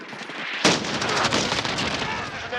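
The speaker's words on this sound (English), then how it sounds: "Allied cluster strike incoming." Allied cluster strike explosions in a war video game burst in suddenly after a brief quiet, then roll on as a loud, dense barrage of overlapping blasts and crackling impacts that keeps going to the end.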